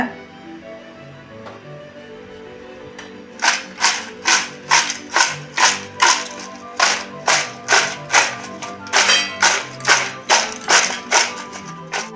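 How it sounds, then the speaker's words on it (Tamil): Fried potato chips shaken with chili powder in a container, a quiet start giving way to a fast, even run of sharp rattling shakes, near and loud, repeating for about nine seconds. "இதில் கொஞ்சமாக மிளகாத்தூள் போட்டு குலுக்கி விட்டுடுங்க."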